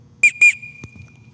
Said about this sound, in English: we're gonna go and give that whistle command, telling them to come get their air rifle